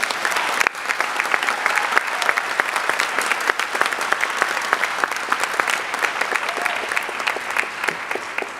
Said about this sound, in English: can we get one more round of applause for all of our amazing students today?